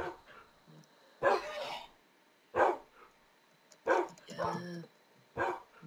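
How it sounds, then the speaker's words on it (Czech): Dogs behind a fence bark in short, loud bursts, about four separated barks with quiet gaps between them, heard fairly close outdoors. "tady někdo štěká"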